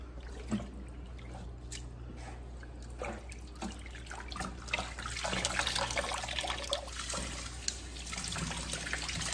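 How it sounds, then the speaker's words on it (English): Running tap water splashes steadily over greens being rinsed, with uneven trickles and drips that grow fuller and louder toward the end. "I washed these greens 3 times"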